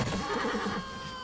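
A horse in the video game Darksiders 3 lets out one short, fairly quiet whinny that quickly fades.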